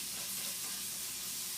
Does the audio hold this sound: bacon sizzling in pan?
yes